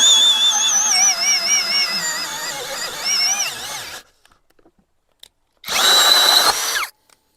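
An ELTOS DA-16DFR BL 42 Nm cordless screwdriver whines loudly as it drives a screw, pitch wavering under strain, stops, then runs again in a shorter burst.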